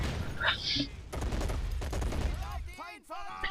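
Dense battlefield gunfire from the World War II strategy game Men of War, with a bridge battle between Russian and enemy troops, crackling as a continuous loud fusillade of rifle and machine-gun shots, with whooshing, sweeping effects near the end.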